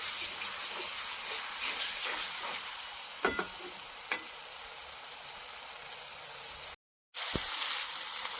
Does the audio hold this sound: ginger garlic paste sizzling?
yes